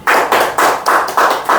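An audience claps in unison at a talk on fasting, six loud, evenly spaced claps, close and sharp, with no voices between them.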